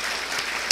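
Audience applause at an awards ceremony, a steady wash of clapping hands through the short moment, ending with a slightly louder burst.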